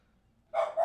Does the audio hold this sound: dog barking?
yes